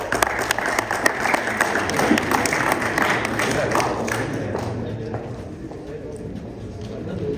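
Applause and crowd clapping greet the president of the South Ontario Cricket Association at its 2024 annual general meeting, a steady, dense patter that carries loudly for several seconds before thinning out toward the end.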